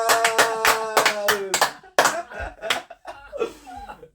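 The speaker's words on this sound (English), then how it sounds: "A round of applause!" A few people clap in a home, quick bursts of sharp hand slaps mixed with laughter and chattering voices, close and lively.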